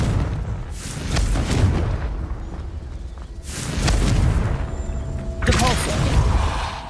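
Repeated fiery spell blasts from Confringo in the game Hogwarts Legacy, several booming bursts spaced across the clip over a busy background of combat sounds, loud and close.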